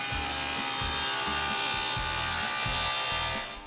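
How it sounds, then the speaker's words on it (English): A table saw fitted with a dado stack cuts rabbets into wooden side pieces, making a loud, continuous rasping whine with a rhythmic pulsing grind as each pass goes through the wood. "using the dado stack, I'm going to cut rabbets on all three sides of the side pieces"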